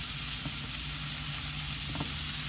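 Fresh garden peppers and onions frying in a pan give off a soft, steady sizzle, with a couple of brief clinks or stirring touches partway through.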